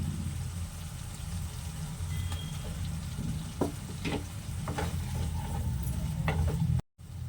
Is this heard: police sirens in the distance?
no